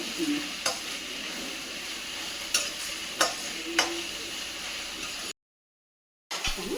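Onions fry in a pan with a continuous hiss and sizzle. A spoon stirs them in several sharp scraping strokes. The sound cuts out briefly, then the sizzling returns.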